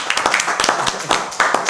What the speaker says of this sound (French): Même si vous n'avez pas applaudi, applaudissez quand même.